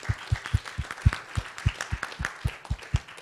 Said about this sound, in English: if you join me with a round of applause for our speakers